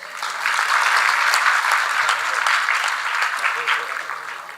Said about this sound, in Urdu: جی تالیاں ہونی چاہیے